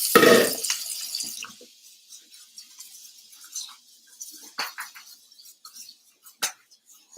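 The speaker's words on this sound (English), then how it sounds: "I'm going to go ahead and rinse this off" Tap water runs briefly into a kitchen sink to rinse produce, with a short burst at the start followed by scattered drips and light splashes, close and fairly quiet, with no speech.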